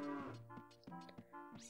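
Cows moo on a farm in Zelda: Ocarina of Time, a few low, drawn-out moos in quick succession, fairly quiet and close, with no talking over them.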